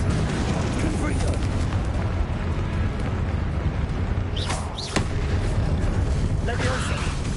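Confringo fire spells exploding in Hogwarts Legacy amid dense, continuous combat noise, with a few sharper bursts standing out in the middle and near the end.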